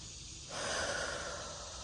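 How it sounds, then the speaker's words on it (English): Heavy, winded breathing from a hot, out-of-breath pregnant woman working in an urban backyard garden, close to the mic, steady and rising louder midway, with no speech. "I get out of breath"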